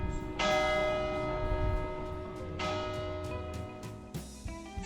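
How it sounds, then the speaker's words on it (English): Church bells at midday in the Basque country strike out loudly, with fresh peals around one, two and a half and four seconds over a steady resonant ringing that never fades. "Oh, the bells calling us to lunch."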